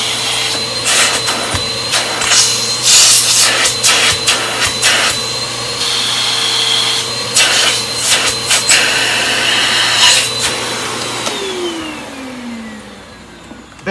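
An upright Eureka SurfaceMax vacuum cleaner runs loud and close with a steady motor whine and roaring airflow, plus bumps and rubbing noises, then the motor winds down near the end.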